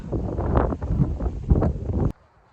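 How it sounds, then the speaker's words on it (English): Wind buffets the microphone on an exposed hiking trail on the Kaibab Plateau toward the Grand Canyon North Rim, a loud, steady rushing roar that cuts off abruptly near the end. "So the wind wears on you."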